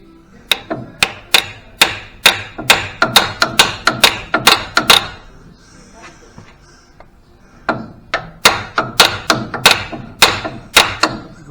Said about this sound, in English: Just hit the side of this here and see if I can knock it in.